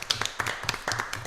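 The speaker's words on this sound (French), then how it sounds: "Applaudissez pour vous-même" A small audience at a music talk show claps briefly for themselves, a short burst of a few distinct, fairly close hand claps in an uneven rhythm, fading quickly.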